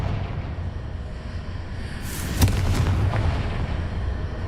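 A Confringo fire spell goes off in a Hogwarts wizarding video game: one sharp, booming blast midway through, followed by a brief crackling rumble over steady ambient background.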